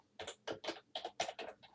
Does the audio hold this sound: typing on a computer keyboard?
yes